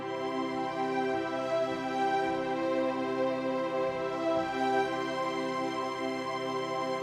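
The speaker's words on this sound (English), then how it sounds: "if you have a keyboard with a sustained sound like this that you can make" A keyboard with a sustained organ-like tone holds soft three-note chords that shift slowly, smooth and continuous at a moderate, even level, with no voices.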